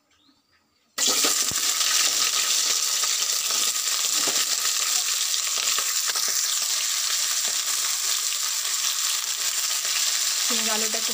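Potatoes and spring onions sauté in a hot pan at home for a Bengali rohu fish curry. After a second of near quiet, a loud, steady, close sizzle begins and runs on with occasional stirring scrapes.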